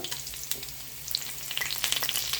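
Garlic, dried red chillies and green chillies fry in hot oil while being stirred in a pan for ponnanganni keerai poriyal, a steady crackling sizzle with scattered sharp pops and scraping, close and fairly quiet, no talk.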